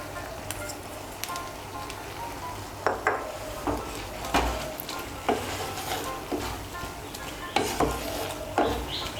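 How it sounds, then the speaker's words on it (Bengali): A spoon stirs kasuri methi into a pan of mixed dal tarka, producing repeated scraping and clinking strokes against the pan over a low sizzle. "কসুরি মেথিটা মিশিয়ে নেব। মিশিয়ে নিয়েছি।"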